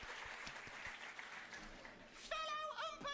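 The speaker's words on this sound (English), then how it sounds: "Give us a big We will rise again. Sam, AJ, Tom, Little Luke. Little Luke? Oh. round of applause to begin." A small group claps and applauds at an even pace while voices talk and laugh over it, and a louder voice cuts in near the end.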